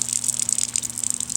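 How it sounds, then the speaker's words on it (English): Water from a faucet streams through a Sawyer filter adapter, a steady hissing gush with light rattling flutter, close and continuous without a break. "we get the water going up a little bit until we get a nice stream"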